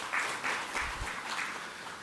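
An audience applauds in a hall, a short burst of many hands clapping in rough waves, moderately loud and heard from a little distance.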